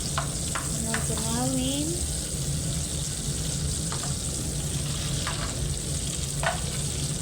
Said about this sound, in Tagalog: Ilagay ko na guys ang butter at saka may olive oil din yung kasama